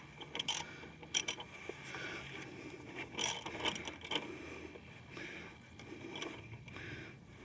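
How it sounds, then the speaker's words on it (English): Ratcheting wrenches tighten shock absorber bolts on a 2002 Ford Ranger Edge, giving quiet metallic clicks and clanks in scattered bursts, close by, with no talking. "So go ahead and tighten them down with your wrenches."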